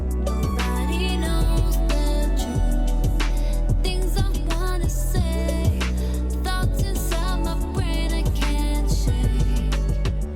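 A finished beat produced with an Arturia KeyLab MIDI keyboard controller plays loud and dense, with a heavy sustained bass, punchy repeating drums and layered melodic synth parts in a steady groove.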